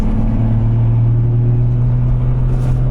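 Steady low engine drone from inside a car on the way to the Smiltene "Tepera" autosprint track, holding an even hum with no pauses and no voices.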